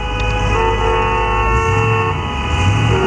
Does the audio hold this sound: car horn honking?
yes